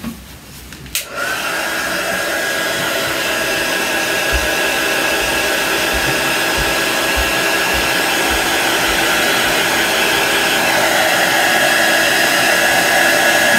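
Hair dryer blowing steadily and loudly close by, drying chalk paste on a Chalk Couture craft project, a continuous whirring roar that starts after a brief click and runs unbroken to the end.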